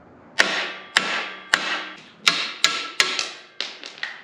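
A mushroom-style hammer knocks a shaft out of a cheap kid's snowmobile build, landing about nine sharp, ringing metal blows at close range in an uneven rhythm, each one decaying quickly, with no talking.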